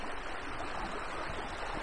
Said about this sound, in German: Haben wir einen etwas größeren Bach? Ja, vielleicht ist das schon fast ein Fluss.